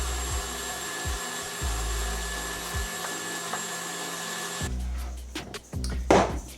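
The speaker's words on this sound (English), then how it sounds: "I'm going to use a finer grate on my meat grinder in this second pass" Electric meat grinder with a finer plate grinding pork on a second pass, a steady close motor whine with low thumps, then rougher clattering handling noise toward the end, no talk.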